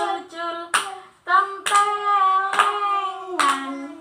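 A group claps hands roughly once a second while singing the Javanese children's song Gundul Pacul together, in a classroom setting; sharp, fairly close claps land under steady sung voices.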